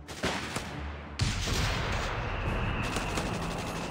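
Gunfire in the World War II strategy game Company of Heroes 3, with rifle and machine-gun shots cracking in quick bursts over a constant roar of battle, loud and close.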